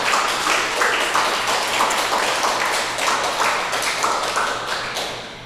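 Audience applause at a film showcase during an arts festival, dense and steady clapping from a crowd, loud and close, fading slightly toward the end.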